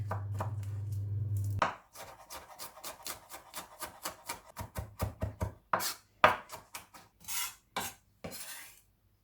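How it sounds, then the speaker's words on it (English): Fresh garlic minced with a knife on a board: a burst of steady rapid chopping, then a quick irregular series of sharp close knife taps, some louder than others, with no talking. "Just have to mince the garlic."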